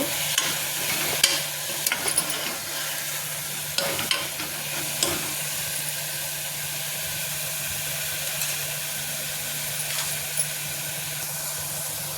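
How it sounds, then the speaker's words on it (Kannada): Ingredients for foxtail millet pulao fry in a pan over a low flame, giving a steady close sizzle throughout with occasional light scrapes and clinks of stirring. "ಸಣ್ಣ ಉರಿಯಲ್ಲಿ ಇಟ್ಕೊಂಡಿದ್ದೀನಿ ನಾನು ಇದೆಲ್ಲ ಫ್ರೈ ಮಾಡಬೇಕು"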